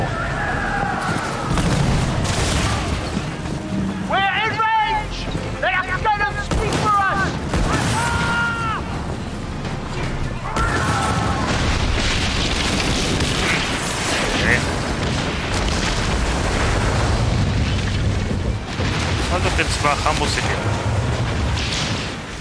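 Rocket explosions in a video game boom repeatedly amid busy game noise, with music and a voice talking over the blasts.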